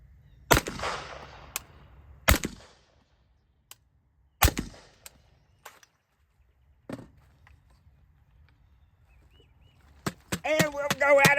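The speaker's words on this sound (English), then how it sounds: "All right, first 3 shots after that beat down." Rifle shots fired with a Primary Arms GLx MD-21 optic mounted, during a durability test after a beat-down on a solar panel: a few sharp, loud, separate cracks spread over the span with quiet gaps, and a voice begins speaking near the end.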